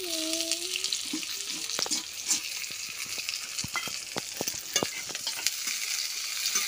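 Prawn curry cooking in hot oil, with a steady sizzle and frying crackle under repeated stirring scrapes, close and fairly loud throughout and no talking.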